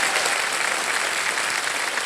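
Studio audience on a televised quiz show applauding, a dense, sustained wash of clapping from many hands that stays loud and even throughout.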